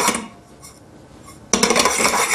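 Sesame seeds browning in a dry pan are shaken and moved around, giving a soft rattle that builds into a loud, dense burst of clattering metallic scraping and tossing near the end.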